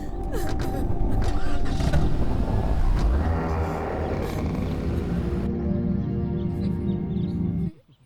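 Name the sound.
vehicle starting and driving off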